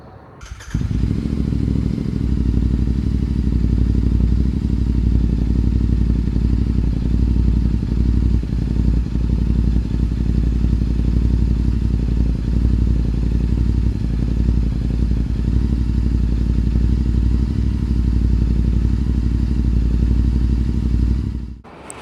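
A Royal Enfield Interceptor 650 motorcycle being ridden, its steady, loud, close engine drone holding a constant throbbing rumble for about twenty seconds, starting and ending abruptly, with no talking.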